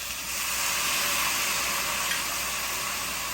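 Dark soy sauce sizzles loudly as it hits a hot pan of black pomfret, a steady, close, hissing fry that swells just after it starts and holds evenly throughout.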